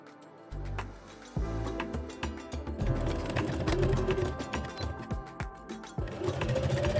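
A sewing machine top-stitches a neck binding on a kimono jacket, running in a fast mechanical whir with a ticking needle beat, starting and stopping in short bursts before one long steady run.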